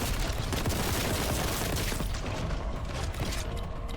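Boltor gun firing in Warhammer 40,000: Boltgun, a dense, loud volley of rapid heavy shots with booming impacts, continuous for the whole stretch.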